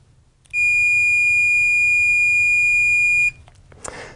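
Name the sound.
multimeter continuity beep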